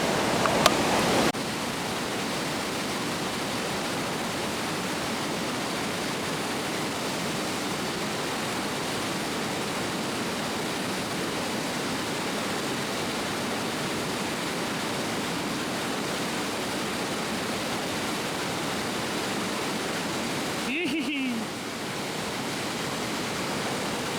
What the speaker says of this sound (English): Not small water. That's a lot of water pushing through.